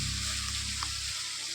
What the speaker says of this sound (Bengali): এই দেখুন গাইস একটু টমেটো দিয়ে দিলাম